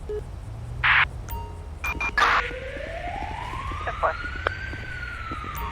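An ambulance siren in GTA 5 during police roleplay: a wailing tone glides upward and holds, rising clearly in the foreground, preceded by short electronic beeps and chirps.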